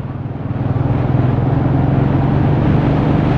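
A Royal Enfield Meteor 350 motorcycle engine drones while riding in fourth gear, a steady low thumping rumble that builds slightly and holds, loud and close, with wind noise and no talking.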